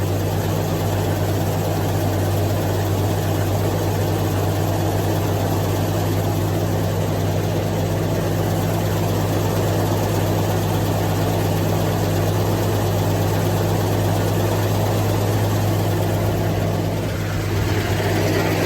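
A Ford XE Falcon engine idles right after a cold start, a loud, steady low rumble with an even, unbroken hum throughout and no talk.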